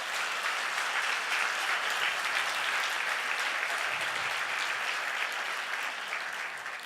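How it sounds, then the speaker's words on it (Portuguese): A church congregation applauds in a steady, even wash of many clapping hands that holds for several seconds before easing off slightly at the end. "Pode aplaudir."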